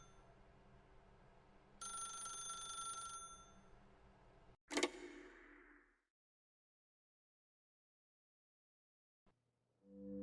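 In the video game The Stanley Parable, a telephone rings with a bright electronic trill for about a second over a low ambient hum, followed by a sharp impact, then near silence.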